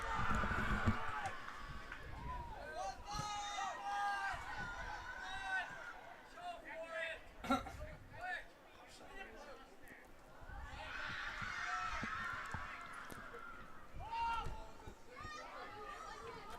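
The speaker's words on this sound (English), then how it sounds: "Crowd's a little bit lively here for this last game." Spectators at a U15 boys youth soccer match cheer and chatter in a lively, fairly distant crowd, with swells of excited shouting near the start and again later, under ongoing talk.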